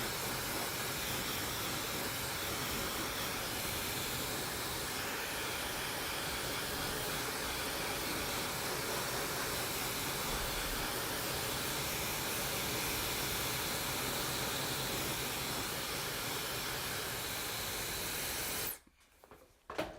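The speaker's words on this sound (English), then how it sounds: "The other thing that I like about this blow dryer is it's quite quiet" A blow dryer roars with a steady, broad whooshing hiss for most of the stretch, then cuts off abruptly near the end.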